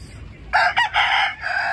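Gamefowl roosters in a backyard crow with a loud, close call broken by a brief gap, then another crow trailing off, with no voices.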